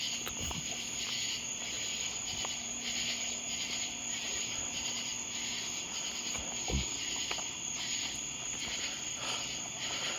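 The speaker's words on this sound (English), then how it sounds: "Oh, I'm hearing trigs. Anglewing." Trig crickets and anglewing katydids trill continuously in a constant high, steady buzz, with other insect chirps layered in and a few soft rustles and taps nearby.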